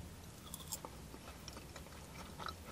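Someone bites into a soft, potatoey chip from a fish and chips meal, a few faint crunches and chewing sounds close to the mouth, with no talking.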